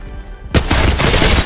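Rifle fire from Apex Legends weapons such as the 30-30 Repeater, G7 Scout, Hemlok and Sentinel ends a brief quiet with a sudden loud close burst of overlapping shots and sustained crackling echo.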